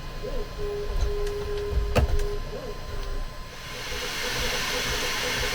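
A Bambu Lab A1 Mini 3D printer runs its calibration routine, giving off steady stepper-motor whines and tonal hums over a constant hiss, with a brief sharp click midway and the noise growing brighter and louder near the end.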